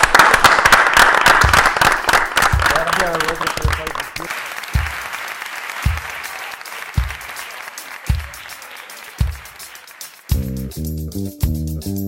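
Audience applause rings out loudly at first, then thins to a few scattered claps and thumps at regular intervals before a short burst of keyboard-like tones at the end.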